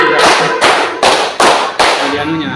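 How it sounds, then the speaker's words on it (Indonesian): A classroom of students clapping in a counted pattern, loud and close, each burst a sharp wash of claps sharply separated by brief gaps, five beats in a steady rhythm. "Tepuk 1, tepuk 2, tepuk 3, tepuk 4, tepuk 5."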